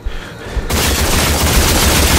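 Gunfire in the shooter Rage: after a quieter moment, a sudden dense, loud burst of rapid automatic fire that continues steadily to the end, close and unbroken.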